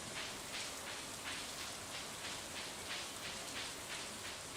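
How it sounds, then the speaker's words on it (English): Steady rain in the video game Stardew Valley, a dense, even hiss of drops pattering on surfaces, continuous and moderately loud with no voices. "that rain sound, though"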